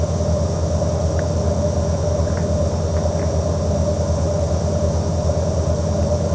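A simulated aircraft engine drones in an X-Plane 12 flight over mountainous southern Réunion, a loud steady propeller hum with layered low tones and an even, unbroken level.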